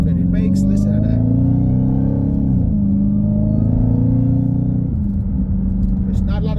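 A Dodge Hellcat's engine rumbles at idle with a deep, steady low tone, swelling slightly and dropping back midway, loud and close throughout.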